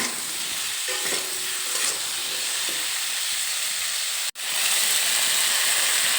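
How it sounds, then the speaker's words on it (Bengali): Cauliflower and mixed vegetables fry in a wok while being stirred with salt and turmeric, giving a continuous close sizzle with scraping stirs and a brief dropout near the end. "এখন দেখো নেড়ে চেড়ে লবণ আর হলুদ গুঁড়ো এই সবজিগুলোর সঙ্গে মিশিয়ে নিচ্ছি"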